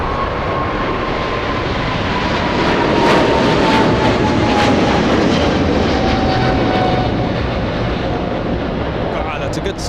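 Airbus A380 jet roaring past at Los Angeles International Airport, a loud, steady broadband rumble with a slowly falling whine, swelling mid-pass and holding strong throughout; voices murmur faintly beneath.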